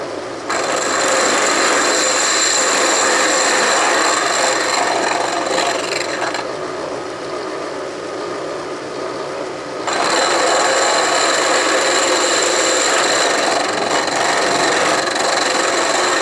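A three-insert cutter machines a large Ridgid Columbian bench vise part, a steady, loud, rasping metal-cutting whine that drops briefly mid-way and then resumes, with no talking.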